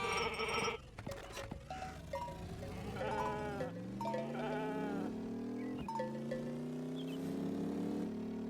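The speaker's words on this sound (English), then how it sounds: "They just let sheep hang out in the road around here, I guess." Sheep bleat repeatedly on a road in the truck-driving video game Truckful, several wavering calls overlapping close by at steady loudness, with a faint clank like a cowbell early on and no talking.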